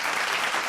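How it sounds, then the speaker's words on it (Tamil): Audience applause at a Tamil children's speaking competition, a brief, dense wash of clapping heard in isolation. "ஒரு உற்சாகமான கைத்தட்டல் கொடுங்க."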